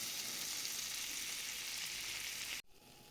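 Flour sizzling and frying in 100 grams of melted butter in a heated pan, a steady close hiss that cuts off abruptly near the end.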